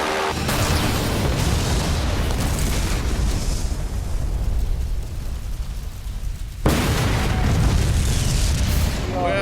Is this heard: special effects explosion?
yes